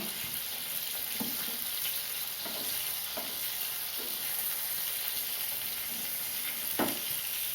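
Brinjal slices shallow fry in oil, giving a steady high hiss of sizzling with occasional soft taps and scrapes from turning the pieces, close and even in level, no one talking.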